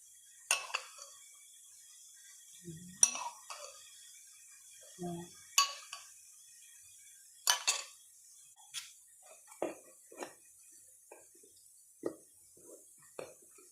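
A spoon mixes flour, salt, baking powder and butter in a bowl, making sparse, faint clinks and scrapes against the bowl with quiet pauses between them.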